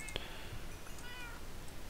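A cat meows once in a video game with a skeleton nearby, a short, fairly faint cry near the start over a steady game background hum.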